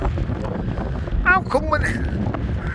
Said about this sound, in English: And the big one, and that wind's getting up though.